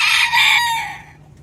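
A rooster crows loudly and close by, a drawn-out call that fades away at the end, with no talking.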